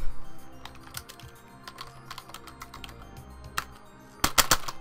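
Keys clack on a computer keyboard during a live Pokémon Showdown online battle, with scattered close keystrokes and a louder rapid burst of typing near the end, no voices.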